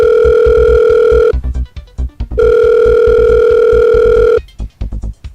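Ringback tone on a telephone while calling a friend during a Who Wants to Be a Millionaire Vietnam Edition game show, two long loud steady tones separated by quiet gaps.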